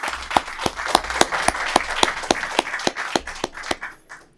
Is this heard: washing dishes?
no